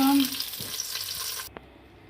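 Capsicum fries in a pan, a steady broadband sizzle with a brief tonal ring at the start, then cutting off sharply to near quiet with one small knock afterward.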